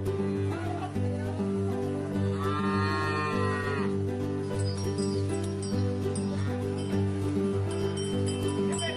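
Cattle moo loudly and close by in a livestock setting, with long deep calls that overlap and follow one another for several seconds, over a constant background drone. No one speaks.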